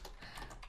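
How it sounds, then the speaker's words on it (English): Typing on a computer keyboard gives a short run of soft, muffled key taps over a steady background hiss. "I'm typing clubs and black."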